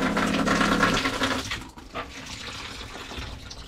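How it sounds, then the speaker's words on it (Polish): Water running steadily from a shower in a camper van, a strong continuous splash for the first second, then a quieter patter and trickle with no voices. "I ta woda się nam tutaj leje w kółko."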